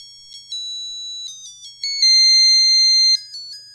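A theme tune plays as thin, high electronic beeps from a tiny TV's speaker, short tones then a held note in a halting rhythm, clear and close with no voices.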